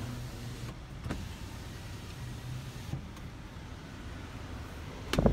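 The electric motor of a 2019 Chevrolet Silverado High Country pickup's power sliding rear window whirs steadily in the background with a low hum, ending in a soft thunk as the glass stops.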